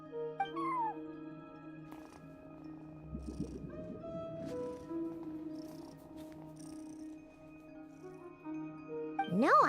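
A cat at a front desk in the video game Genshin Impact gives a short meow near the start, set against a quiet, sustained musical background with soft chimes and a rising tone at the end.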